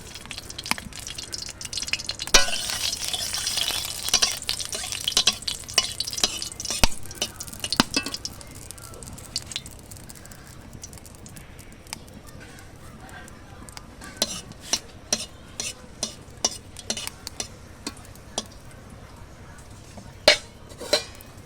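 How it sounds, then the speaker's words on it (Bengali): Dried red chillies temper in hot mustard oil with a soft sizzle beneath repeated spoon clinks and scrapes against the pan, busier at first and then sparse, sharp taps, with faint speech in places. "আমি সরিষার তেল দিয়ে দিচ্ছি, এবার শুকনো লঙ্কা দিয়ে দিচ্ছি ফোড়ন"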